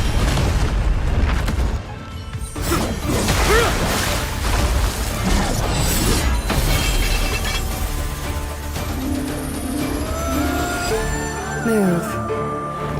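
A loud booming explosion from an attack in the Honkai: Star Rail video game sounds with crashing and shattering, then rumbling debris and a music score that rises beneath a voice.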